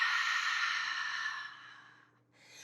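One long, audible exhale through the mouth during a yoga breathing exercise, airy and close, fading out, then a soft start of the next breath.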